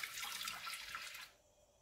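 Warm water for bun dough pours briefly into a kitchen container, a close, soft splashing trickle that stops abruptly after about a second.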